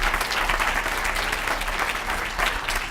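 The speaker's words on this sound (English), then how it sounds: "Let's give President Rao a hand of applause" A university town hall audience on diversity and inclusion breaks into steady, sustained applause, a dense wash of clapping from many hands filling the room at moderate loudness without talk.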